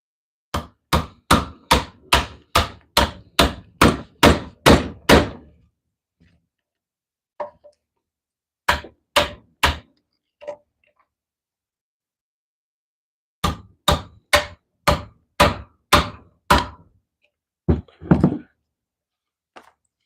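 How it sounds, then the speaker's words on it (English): Woodcarving by hand: sharp, hollow knocks strike wood in quick runs of about a dozen evenly spaced blows, then fewer scattered hits, then another burst. The strikes are loud and close, with quiet gaps between them. "So we'll make a few cuts, do a little chiseling, kind of back and forth between them all."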